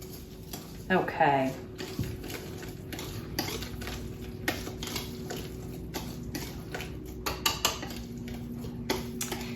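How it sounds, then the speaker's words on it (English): A whisk stirs Belgian waffle batter in a bowl, making soft, steady clinks and scrapes against the sides at close range, with a brief spoken word near the start. "And we can continue to use the whisk, or you can use a spoon or spatula."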